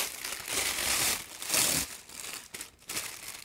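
Crinkly plastic packaging rustles and crackles loudly and close as a yarn project bag package is torn open, a continuous busy crumple lasting a few seconds with short dips near the end.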